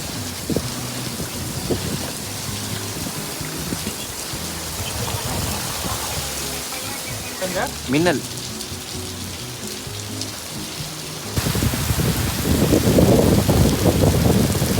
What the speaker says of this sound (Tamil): அந்த மழை போன வருஷம் பெஞ்சது